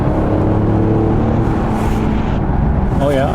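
Kia Stinger GT engine in sport mode dropping through the gears, a steady loud cabin drone with shifting tones and a brief rising whine near the end, under a voice.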